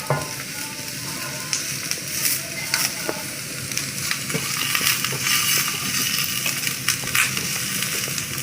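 Onions fry in oil in a cast iron pan with a loud, steady, close sizzle. Occasional sharp clicks of stirring break through it.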